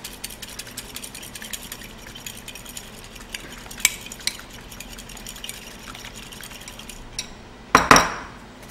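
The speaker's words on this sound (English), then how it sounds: "And then macerate it with a fork." A fork clinks and taps against a bowl while egg wash is beaten, quick light metallic ticks over a soft background, ending in a louder clatter near the end.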